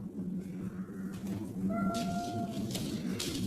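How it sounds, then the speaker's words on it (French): A cat called Minou gives a short, clear meow partway through, over a steady low hum and soft background noise, with no one talking. "Ça c'est minou."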